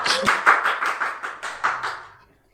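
A small audience claps for a guest speaker at an occupational safety talk, a run of distinct, fairly close hand claps with a loose rhythm that fades out after about two seconds.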